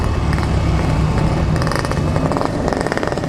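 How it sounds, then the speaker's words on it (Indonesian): A motorcycle accelerates close by with a smooth, rising motor whine in quick surges, no rumbling exhaust, just a buzzy hum climbing in pitch. "suara dari hentakan motor ini sangat responsif"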